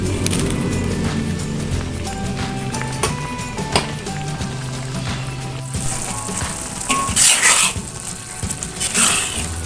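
Petai beans are stirred into green chili potato sambal in a hot pan, sizzling with spatula scrapes and clinks of metal, loud and close, with a few sharper bursts near the end.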